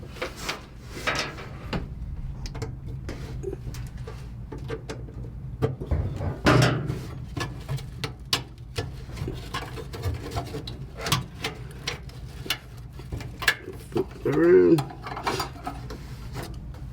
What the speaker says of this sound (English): we'll start by taking these two screws off on this inspection plate